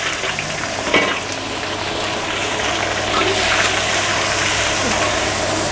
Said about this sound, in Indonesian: Yang pertama gua ada bawang bombay, langsung aja gua tumis.